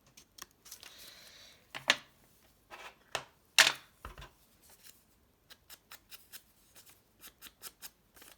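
Scissors snip paper for an Easter bunny mini folder in short, sharp, close cuts, a few louder crisp snips early on and then a quick run of small clicks.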